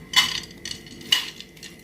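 Soaked horse gram drops into a 5-litre pressure cooker with two or three bright metallic clatters and a faint scrape, close and fairly loud, with no talking.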